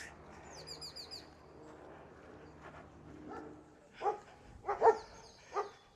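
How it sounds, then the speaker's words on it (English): Dogs bark from behind high fences near a beach in St Lucia, a few sharp barks bursting out over the last two seconds at moderate distance, while birds chirp and tweet steadily throughout. "Dogs serenading me as I make my way along."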